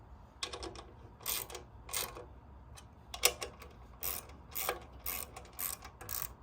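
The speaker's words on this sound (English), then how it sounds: "Torque tight and go over the bolts a second time as needed to ensure tightness." Quick ratcheting clicks in short bursts from a hand wrench torquing M8 hex head bolts on a Glambot Event Pro 2 assembly, close and fairly quiet against a low hum, with no talking.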